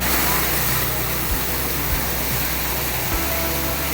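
Waterfall in the campus at the Statue of Unity, heard close up; a loud, steady broadband roar of falling water with a few faint low thumps beneath.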